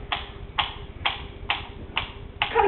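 A mysterious ticking noise comes as a steady, evenly spaced series of sharp ticks, about two per second, close and clear against a quiet background.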